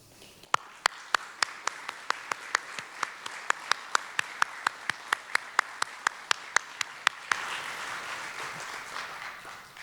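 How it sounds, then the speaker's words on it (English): A concert audience at a music festival applauds in memory of Judy: evenly spaced, crisp claps ring out, then swell into a broader, denser round of applause near the end. "for just a moment we give a short round of applause to Judy"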